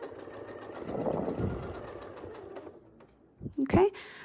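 A quilting sewing machine stitches a seam in a steady mechanical whir, ending in a few short clicks and a brief voice as the stitching stops.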